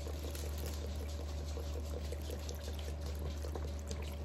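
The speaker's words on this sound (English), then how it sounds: "you're just gonna pour that over your chicken breasts" Great Value chicken broth pours over chicken breasts in a steady, soft, continuous stream with light trickling, heard alone against a constant low background hum.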